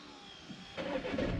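A car engine restarts quickly after being switched off, a brief crank that catches within about one to one and a half turns and settles into a steady running sound, close and fairly loud.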